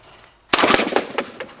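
One sharp shotgun report on a skeet field breaks a low house clay, a loud crack after near silence that trails off in a series of echoing reflections.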